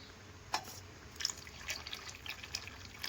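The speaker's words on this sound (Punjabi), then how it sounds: "ਇਹ ਚ ਪਾਣੀ ਐਡ ਕਰਾਂਗੇ ਆਪਾਂ" Water trickles and drips faintly as it is poured into a pan of egg curry, with a few soft splashes of liquid landing, close by and quiet, no voices.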